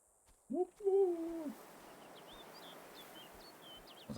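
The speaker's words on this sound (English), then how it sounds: "Sounds like a bird, like a whippoorwill." A bird call resembling a whippoorwill in the game Betrayer: a short, clear warbling call rising and falling over about a second, followed by faint distant chirps over quiet ambient hiss.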